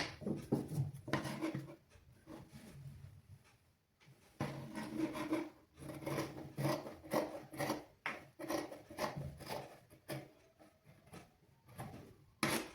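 Fabric being cut along a marked curve for tailoring, soft repeated scissor snips and rubbing of cloth in uneven bursts with a short pause, close and fairly quiet.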